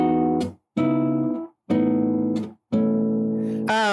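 Guitar playing a tune reharmonized over another song's chords, four sustained strummed chords each ringing out and fading with short gaps, ending with a bright sliding note, close and clear with no talk.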